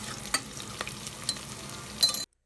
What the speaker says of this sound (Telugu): ఇప్పుడు ఆనియన్స్ కొంచెం గోల్డెన్ కలర్ వచ్చే వరకు ఫ్రై చేసుకుందాము